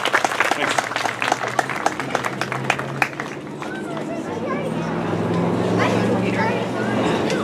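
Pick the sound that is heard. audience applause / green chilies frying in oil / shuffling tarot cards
audience applause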